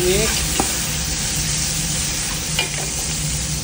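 Oxtail soup ingredients with chili and pepper are stirred in a hot pot, giving a steady sizzle with a few scraping stirs throughout, close and fairly loud.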